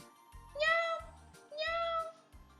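A cat meows twice, clear and drawn out, over soft rhythmic low thumps in the background.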